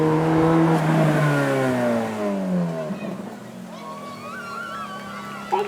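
Ferrari F430 V8 at a supercar weekend accelerating at full power, a loud rising engine note that climbs steadily through the gears and then holds a lower drone, with a crowd murmuring faintly underneath.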